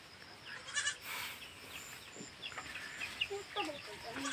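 Goats and chickens on a farm in foggy countryside, with faint bleats and clucks coming and going at a distance over quiet ambient noise.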